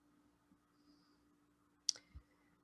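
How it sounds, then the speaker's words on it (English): A computer mouse click on a search button, a crisp close click followed by a faint softer tap in an otherwise quiet room. "And then I'm going to click search."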